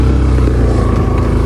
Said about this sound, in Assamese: বাইকখন একেবাৰে যেনে তেনে উঠিছে